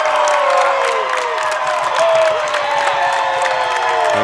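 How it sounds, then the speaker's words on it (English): A home crowd cheers and whoops after a three-point basket at a boys' JV high school basketball game between West Rutland and Proctor, loud and continuous with a few shrill calls standing out. "And the crowd cheering that one on"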